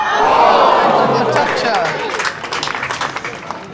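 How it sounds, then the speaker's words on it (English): A crowd applauds and cheers loudly at a women's bowls final during the last end. The clapping swells, then thins into scattered claps and chatter, with a voice talking over it. "The crowd really being invested in this last end. You can hear it."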